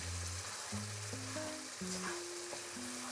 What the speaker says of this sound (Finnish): Kyllä tää aika hyvin tässä kiehuu.